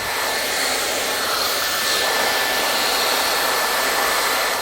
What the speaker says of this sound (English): we'll go in and we'll start the blow dry